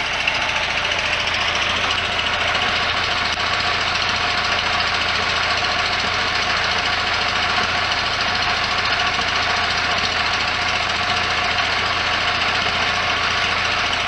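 Air-cooled flat-four of a 1973 VW Super Beetle fitted with a new stainless Empi header, running steadily at idle with a loud, continuous rumble and raspy exhaust tone throughout, no voices.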